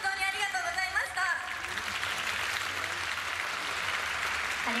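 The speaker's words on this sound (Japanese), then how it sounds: "受賞された小田真美奈さんに温かい拍手をお願いいたします。" Audience applause for the grand-prize winner at the Japan Race Queen Award 2022 ceremony: a steady, even wash of many hands clapping, following a short stretch of speech at the start.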